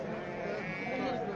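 Sheep bleating at a busy outdoor livestock market, a single wavering bleat fairly close, with people talking around it.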